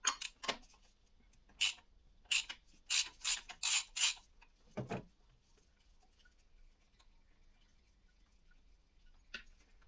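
On a Subaru Impreza 2.0D, an oil filter is loosened with an adapter key. Short, close ratcheting clicks and scrapes come in a quick cluster, then a few isolated faint ticks follow in near silence.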